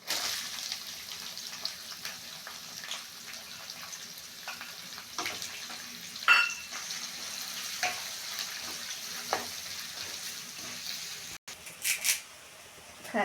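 Chopped onion frying in a pan for a banana-flower stir-fry, a soft continuous sizzle with scattered stirring clicks and scrapes, fairly quiet and close.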